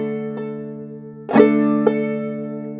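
Clawhammer banjo playing the opening line of a B part of Fly Around My Pretty Little Miss, a few bright plucked notes and one brushed strum over ringing strings, close and unaccompanied.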